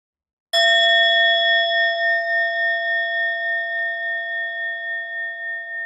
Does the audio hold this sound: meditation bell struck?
yes